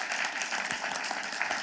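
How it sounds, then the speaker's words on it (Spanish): Congregation at a Friday evening church service gives a sustained burst of applause, a dense wash of many hands clapping that holds steady without a break. "Le da ese aplauso sonoro al Señor."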